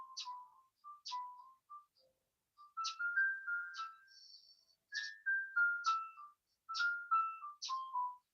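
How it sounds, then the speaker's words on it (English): Series of short phone notification chimes, tonal two- and three-note tones sounding one after another in a steady irregular rhythm, fairly clear and close with no talk over them. "it seems like as soon as I get on live, I get text messages like crazy"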